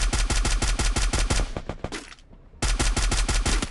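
Rapid automatic gunfire in the shooting game Free Fire, a loud dense burst of rhythmic shots that stops briefly and then resumes at full intensity.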